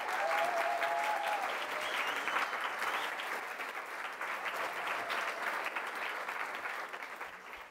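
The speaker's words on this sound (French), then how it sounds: "Si vous pouvez les applaudir bien fort." An audience at an evening event in Marseille applauds steadily and loudly for the co-founder of a queer football club and a guest joining the stage, sustained dense clapping that holds for several seconds with a faint voice briefly underneath.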